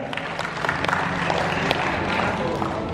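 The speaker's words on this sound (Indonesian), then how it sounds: "Tepuk tangan dong ya" Audience clapping during a motivational talk for Indonesian Ministry of Law and Human Rights staff, a moderate burst of applause from a room of listeners.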